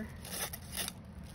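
Scissors snipping through recycled plastic bag material for making fused plastic tags, a few close crisp cuts with light rustling in a quiet room.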